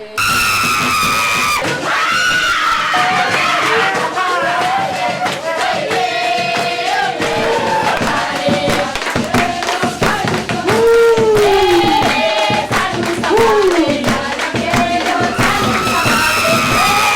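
Possessed participants at a spirit possession rite on Réunion cry out in loud, wavering wails and shrieks, layered with crowd noise and drumming throughout.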